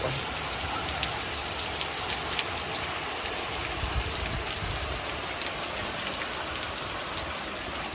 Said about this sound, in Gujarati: વરસાદ આવી ગયો છે બિલાસપુરમાં